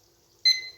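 A single short high electronic beep from a kitchen timer being set while cooking eggless custard-filled bombas, bright and close against an otherwise quiet room.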